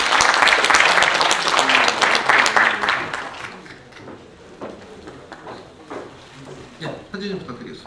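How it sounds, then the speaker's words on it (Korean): Audience applause at a Korean independence declaration anniversary ceremony, a dense burst of clapping at the start that thins out and fades, with scattered claps and voices continuing underneath. "큰 박수로 환영해 주시기 바랍니다."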